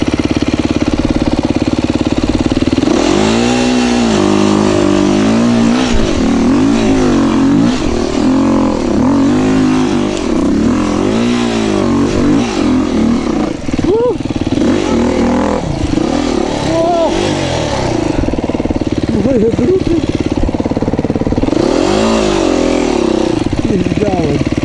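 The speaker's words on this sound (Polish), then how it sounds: "Kultowy motocykl chiński." A Chinese Loncin motorcycle engine revs loudly in repeated rising and falling bursts, with people talking over it throughout.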